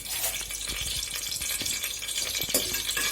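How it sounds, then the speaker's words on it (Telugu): Whole spices such as cinnamon, cloves and cardamom frying in a few spoonfuls of hot oil for a Rayalaseema chicken pulao, giving a steady close sizzle with scattered crackles and pops throughout. "కొంచెం సేపు ఫ్రై అవనిస్తే"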